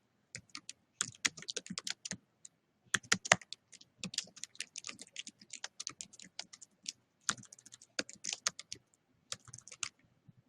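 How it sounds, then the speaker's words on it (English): Someone types on a computer keyboard in quick, close bursts of light key clicks with short pauses between runs, with no voices. "Let's type this in there."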